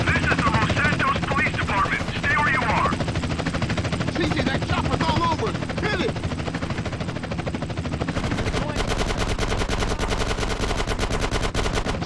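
Continuous rotor thumping from a helicopter in Grand Theft Auto: San Andreas blends with dense rapid gunfire and game voices, loud and unbroken throughout.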